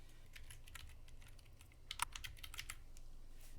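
Typing on a computer keyboard while entering a category search in Quicken: soft, irregular key clicks throughout at a quiet level, with a slightly busier burst of keystrokes partway through and no voices.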